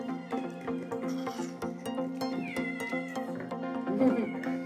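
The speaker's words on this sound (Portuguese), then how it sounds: "Gato tá querendo." A cat meows repeatedly in a home kitchen at lunchtime, close and insistent, with drawn-out, whiny cries following one after another.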